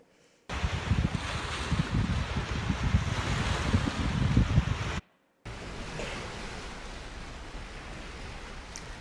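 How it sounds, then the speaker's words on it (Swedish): Wind-driven lake waves wash steadily onto the Vättern shore at Jönköping, a broad continuous roar with gusty wind noise, broken by a brief silent gap midway before the surf resumes slightly softer. "Lite mer behagligt och man hör ju vågorna nu."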